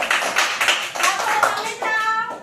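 Children clap their hands in a rhythmic pattern during a preschool game, bursts of close, bright claps mixed with kids' voices talking over them.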